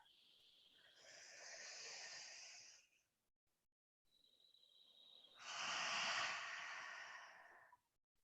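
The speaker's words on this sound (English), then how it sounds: "Let's all of us take a deep breath and notice the difference." People in a guided group breathing session take slow, deep breaths, two long airy breaths separated by a short pause, soft and close with no talking.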